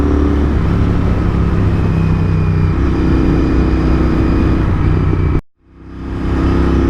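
A Royal Enfield Interceptor 650 twin-cylinder motorcycle being ridden through city streets, its engine drone steady and loud close by, then cutting out abruptly near the end before rising again.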